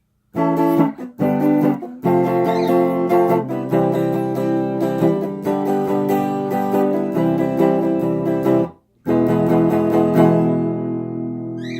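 An electric guitar strums the rhythm chord progression of a song, with sustained chords changing steadily and one brief muted pause near the end.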